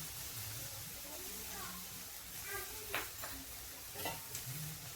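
Softened boiled bitter gourd mixed with gram flour is stirred in a pan, giving a faint low sizzle and a few soft scraping strokes, quiet and close, with a voice murmuring underneath.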